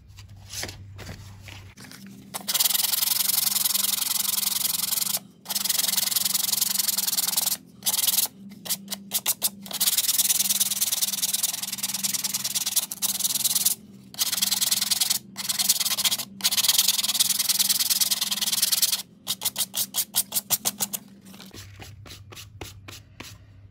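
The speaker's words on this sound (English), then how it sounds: "now we're going to take the sandpaper again and see if we can't clean this up" Steady, raspy scraping rubs along in long strokes with brief pauses between passes, close and fairly loud, as sandpaper is worked over a leather boot.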